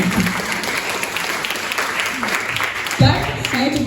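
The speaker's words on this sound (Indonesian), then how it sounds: "Tepuk tangan." Church congregation applauds during a women's ministry service, a continuous broad clapping wash with a voice partly over it and a brief louder burst near the end.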